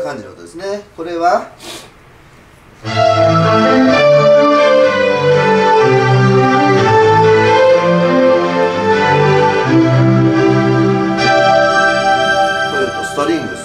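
A Yamaha Clavinova CLP-711 digital piano plays a voice layered with strings, with sustained chords ringing full and loud after a brief stretch of talk.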